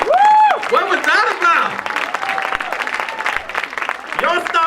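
Audience applause at the 2015 LIIFE Awards, a loud wash of clapping carried under whooping, cheering voices throughout, tapering only slightly across the few seconds.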